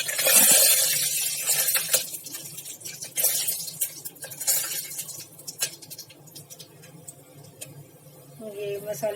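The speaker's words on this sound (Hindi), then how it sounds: "ये मसाले तड़कने लगे हैं" Whole spices crackling and popping in hot oil for a Kashmiri vegetable pilaf, faint irregular ticks and sizzles close by, with some quiet kitchen noise.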